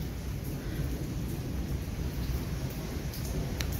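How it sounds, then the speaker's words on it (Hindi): Thunder rumbles low and continuous through a heavy downpour at night, steady hissing rain filling the whole stretch with no voices. "इतने प्यारे बादल गरज रहे हैं"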